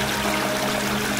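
Water pours in a steady, close stream, being filtered during a stop on the Appalachian Trail; the flow runs continuously and alone for the whole moment.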